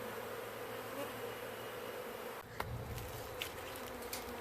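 Honeybees buzz steadily around a shed, a continuous close insect drone with no talking.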